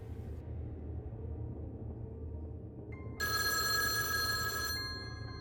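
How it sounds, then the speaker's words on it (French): A mobile phone rings in an empty alley, a bright electronic ring cutting in suddenly and loudly over low rumble, lasting about a second and a half before stopping. "Une sonnerie retentit dans une ruelle vide."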